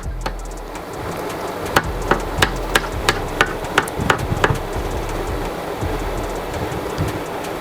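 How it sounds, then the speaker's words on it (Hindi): A screw being tightened on a motorcycle camera mount: a quick run of about a dozen sharp, evenly spaced metallic clicks, close and fairly loud, over a steady low background rumble. "स्क्रू से इसको टाइट कर देंगे।"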